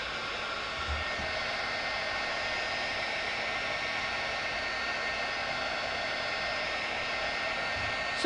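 A hair dryer blows a continuous, even whoosh of airflow while drying wet medical tape, close and steady throughout with no voices.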